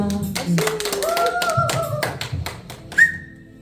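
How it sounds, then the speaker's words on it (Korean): An audience at a community stage performance claps in a burst of brisk, overlapping handclaps, close and fairly loud, with voices and a short whistle-like tone mixed in. "자, 박수, 박수."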